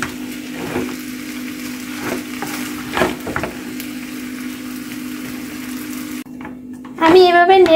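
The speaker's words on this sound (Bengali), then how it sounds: "আমি এভাবে নেড়ে চেড়ে 4-5 মিনিটের মতো রান্নাটা করে নেব।" Maggi noodles with spices are stirred in a frying pan, giving a soft, steady frying hiss with occasional scraping knocks of the spatula, until a voice begins speaking over it near the end.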